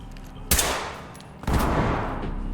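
Gunfire in the tactical shooter game Ready or Not: two loud, sharp bursts about a second apart, each ringing out with a decaying tail, and no talk over them.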